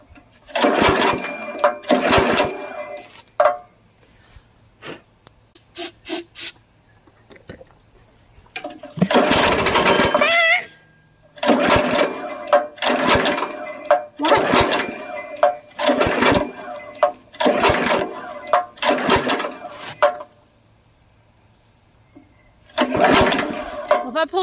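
A small engine being troubleshot runs in repeated bursts, revving up and cutting out several times with quiet gaps between, close and fairly loud; people talk briefly in between.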